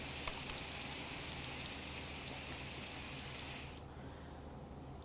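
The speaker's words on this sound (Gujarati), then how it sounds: "માલપુર તાલુકામાં પણ વરસાદ વરસી રહ્યો છે।" Unseasonal rain falls in a rural Aravalli district area of Gujarat, a steady moderate patter spread across the scene that softens near the end, with no voices.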